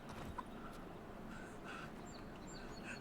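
Chickens in the fantasy video game Avowed, near Claviger's Landing, cluck and squawk in brief calls over a steady ambient bed, with a few sharper chirps standing out.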